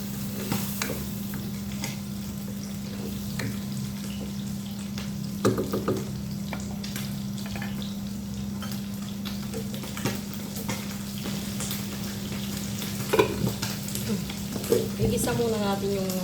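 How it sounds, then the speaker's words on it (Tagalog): Mung beans sautéing in a pan for ginisang munggo, giving a steady close sizzle and fry with occasional stirring clinks and scrapes throughout, no talk. "Igisa muna natin yung munggo"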